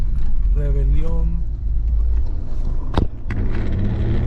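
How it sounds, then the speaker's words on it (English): A manual-transmission truck engine rumbles steadily on a city drive near Medellín, Colombia, with a brief clunk as gears shift; a person talks over the low drone. "I had to switch gears, so this is a truck, not automatic"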